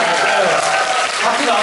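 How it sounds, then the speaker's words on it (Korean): An audience at a live event gives brief, steady applause, fairly loud and close, with no pauses in the clapping. "박수 나왔으니까"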